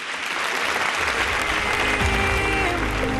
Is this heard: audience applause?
yes